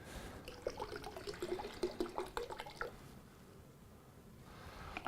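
Liquid chemical poured from a container into a bucket half full of water, a short, close splashing and gurgling for a few seconds that then fades into quiet, with faint drips at the end.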